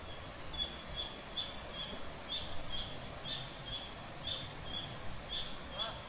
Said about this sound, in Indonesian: Ini saya mendengar suara burung yang begitu indah.